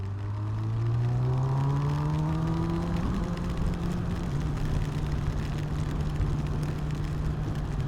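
A Honda CB1000R Neo Sports Cafe Racer in sport mode pulls hard, its engine note rising steadily as it accelerates, loud and close with continuous wind rush and no talking.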